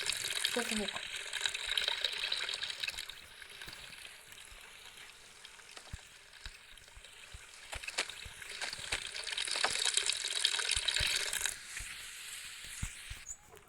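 Running water in the video game Hello Neighbor, a soft steady hiss of flowing water like a tap, faint and continuous with small clicks, swelling slightly in the middle and near the end.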